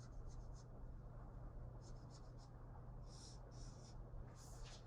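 Pen or marker scratching out music notation by hand, several short bursts of quick strokes in clusters, close and faint over a low steady hum.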